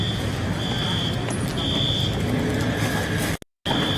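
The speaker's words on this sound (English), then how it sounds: "Alarms going off in Aldi." Alarms sounding at a looted, smashed-up Aldi store during unrest in Minneapolis, a steady high electronic tone that drops out and returns, under a constant rumble of street noise with a brief cutout near the end.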